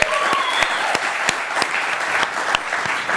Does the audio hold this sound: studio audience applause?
yes